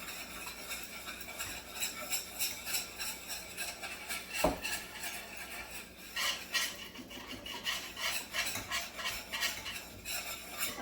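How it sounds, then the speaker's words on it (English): A spoon scrapes and stirs mushroom liquid through a mixture, making rhythmic rubbing and scraping strokes with one sharp clink midway. "Just trying to get this all mixed up."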